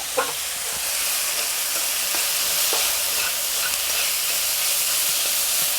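Carrots and shiitake mushrooms stir-frying in a pan with meat over medium heat, a loud continuous hissing sizzle punctuated by light scraping stirs, with no voices.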